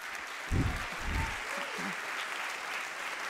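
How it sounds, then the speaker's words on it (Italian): Applause from the audience at a youth assembly of municipal administrators in Treviso, a broad wash of clapping that swells and holds steadily, with a voice briefly heard within it. "Un grazie speciale e penso siate d'accordo con me e merita anche un applauso va a Rossella Macchione"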